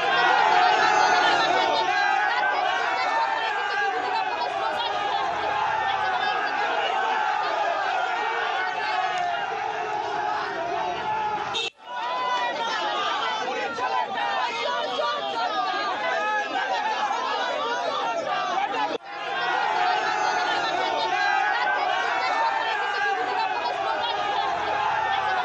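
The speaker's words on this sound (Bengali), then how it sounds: "নিশীথ প্রামাণিককে গো ব্যাক, দিনহাটা আদালত চত্বরে স্লোগান।" A dense crowd chants and shouts continuously at a court premises in Dinhata, loud and sustained for nearly half a minute, with two brief dips where the noise momentarily cuts out before resuming.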